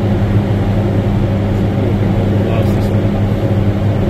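A car engine runs at half throttle on a dyno, producing a loud, steady, droning roar that holds constant throughout.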